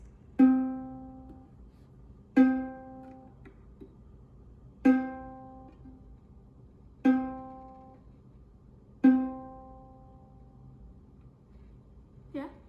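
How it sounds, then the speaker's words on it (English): A ukulele's second string, tuned to C, plucked five times at slow, even intervals, each note ringing and fading alone with a faint background hum. "we're gonna do the second string, which is C, and it sounds like this."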